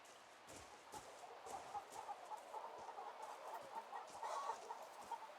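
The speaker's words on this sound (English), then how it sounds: "Chicken. Lay a little egg for me." Chickens cluck softly in the video game Broken Roads, a faint, steady run of short clucks with a quiet rustling background and no talking.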